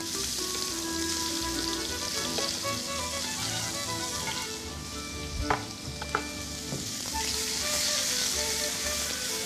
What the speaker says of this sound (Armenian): անմիջապես սոխը ավելացնում ենք